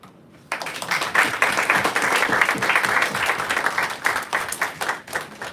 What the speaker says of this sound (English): give a round of applause to Gunjita Agarwal